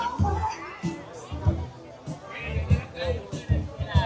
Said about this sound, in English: let's walk right through the middle of the crowd, folks